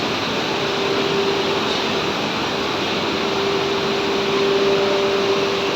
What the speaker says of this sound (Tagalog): Dahil napaka-sensitive po nitong machine na to sa pag-print sa tiles.